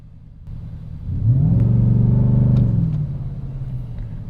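A 700-horsepower 2023 Ford Raptor R switched to sport mode roars as it accelerates, its engine swelling into a loud, close, rising rev that holds for about two seconds and then settles back to a steady rumble.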